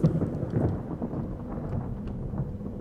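Thunder rumbling through a rainy night in the stealth game Thief 2, a low continuous roll with a sharper crack at the start, steady and moderately loud with faint rain texture and no voices.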